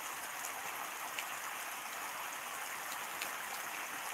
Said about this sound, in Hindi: बारिश आज सुबह से बारिश हो रहा है, बहुत जोर बारिश हो रहा है अभी।